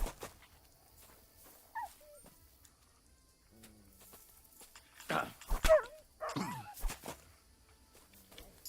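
Mutt, a dog companion in Kingdom Come: Deliverance II, gives short barks and whimpering yelps, scattered and irregular, rising to a louder burst of barks near the end over quiet game ambience.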